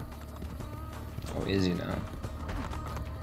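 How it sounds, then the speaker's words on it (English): A horse galloping in Assassin's Creed Brotherhood, a continuous patter of hoofbeats with a brief whinny partway through, under someone talking. "Hey, come on, horse, let's go."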